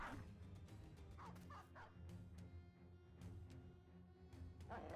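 Dogs barking and yipping in the video game Battle Brothers: Blazing Deserts, several quiet barks over a busy background of game sounds.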